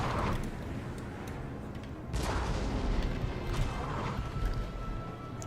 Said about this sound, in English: I'm going to start firing from range again, using my range advantage as well with my cannons